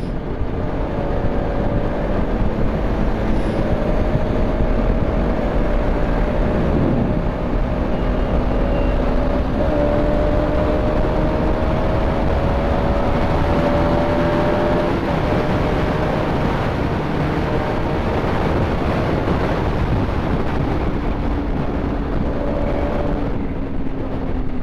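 A Bajaj Pulsar RS200 motorcycle ridden fast, its engine droning steadily with rising and falling pitch as gears shift, mixed with heavy continuous wind rush against the microphone.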